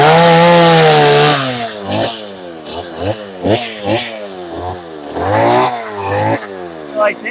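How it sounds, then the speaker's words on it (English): A chainsaw carving wood during a live carving session, its engine revving up and down in repeated surges with a sharp buzzing tone, loud and close, with no talking. "You like chainsaw carving?"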